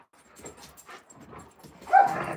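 Alaskan Malamutes playing rough make low growls, huffs and soft whimpering noises up close, rising to a louder growl near the end.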